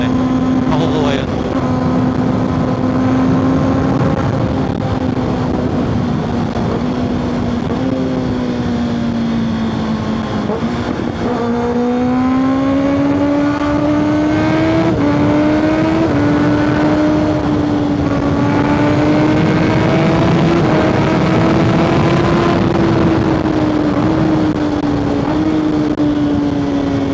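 A Kawasaki ZX6R motorcycle is ridden hard with a loud, continuous engine whine that climbs and dips as the throttle is worked and gears change, over steady wind rush.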